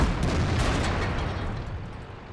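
Artillery shell exploding in the tank combat game World of Tanks, a single loud booming blast that rumbles and slowly fades over a couple of seconds.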